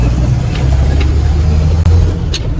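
A tuned 1961 Ford engine runs close by with a deep, steady idle rumble, holding an even rhythm throughout with a brief dip near the end, no voices over it.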